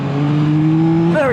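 Yamaha MT-09 SP engine revving through its mid-range around 5,000–6,000 RPM: a loud, steady motor tone that climbs sharply in pitch at the very end.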